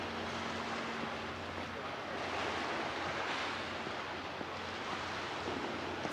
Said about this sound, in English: You can hear the ocean. Always such a wonderful sound.